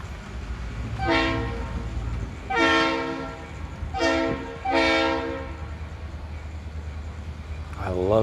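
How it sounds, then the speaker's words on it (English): A model steam locomotive runs on a train layout, sounding four horn or whistle blasts in a rhythmic pattern over a low running rumble, with a faint rising tone at the end. "Got the steam locomotive running."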